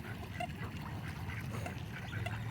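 Ducks at a park crowd around people tossing bread, quacking and squabbling in a steady busy chatter close by, with no clear talk over it.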